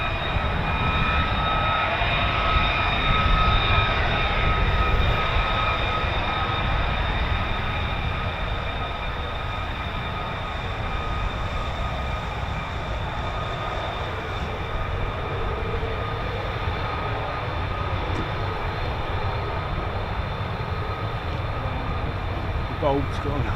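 Fighter jets, F-15s and F-35s at RAF Lakenheath, home of the 48th Fighter Wing, give out a loud, sustained engine roar with steady whining tones that fades slightly over time while people chat under the noise.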